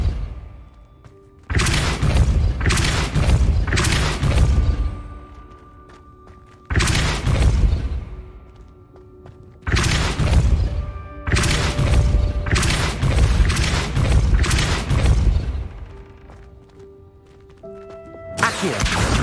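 Depulso spell impacts in Hogwarts Legacy, several heavy booming blasts in bursts, each followed by rumbling crashes and decaying debris, loud and close, separated by quieter pauses.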